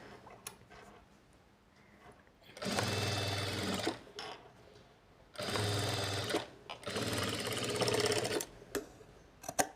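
Sewing machine stitching fabric in bursts, with two long, loud runs of rapid mechanical chatter separated by a quieter pause, plus faint clicks and handling noises between them.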